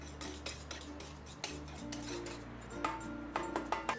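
Sugar, salt and melted butter are gently mixed in a bowl, giving quiet clinks and taps of a utensil against the bowl with soft scraping between them. The sounds are faint and irregular, with no talking.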